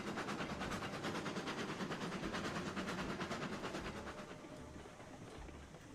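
A Shay geared steam locomotive, a logging engine, runs in the train simulator game Railroads Online, giving a steady rapid chuffing and rumble that stays close and loud before easing slightly at the end.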